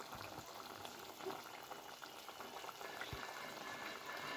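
Fish curry with cut raw mango and green chilies bubbles in a pot at a quiet, continuous simmer, soft popping and gurgling throughout with no voices.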